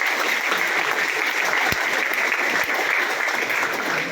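Audience applause at a comedy show in Hubballi, a steady dense clapping from a crowd that continues evenly throughout with no talk over it.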